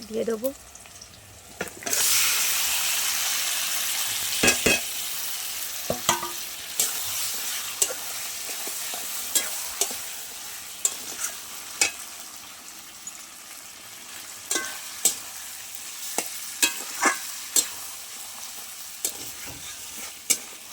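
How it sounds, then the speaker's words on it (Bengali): Mutton frying with browned onions in a pan, starting with a loud sizzle and followed by a steady hiss punctuated by frequent scraping and clinking stirs, close up and without talk. "এবার আমি ভালো করে কষিয়ে নেব"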